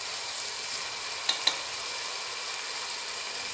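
Chicken pasta sauce with tomato sauce simmers in a pan with a steady, even sizzle and two brief clicks of a utensil partway through.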